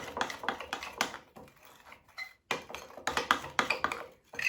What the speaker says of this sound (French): Vous mélangez le tout.